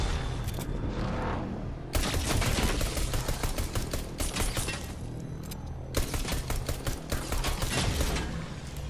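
Rapid bursts of automatic gunfire crackle almost continuously in the video game Fortnite, loud and dense, with brief pauses between volleys amid booming game sound effects.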